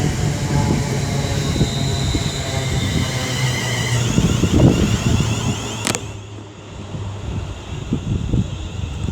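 A Class 350 electric multiple unit pulls into Lichfield Trent Valley station, its steady rumble and rail noise loud and close with wind buffeting the microphone, then a sharp clunk before the sound eases slightly.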